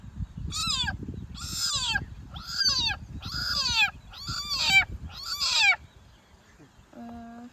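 A person imitates a kitten, giving six high, wavering meows in a row over low background rumble, followed by a short tonal sound.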